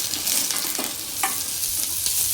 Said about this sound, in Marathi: थोडंसं तेल इथे घालायचं आहे आणि त्यानंतर यामध्ये आपल्याला 2 मध्यम कांदे यामध्ये घालायचे उभे चिरून आणि थोडे लालसर परतवून घ्यायचे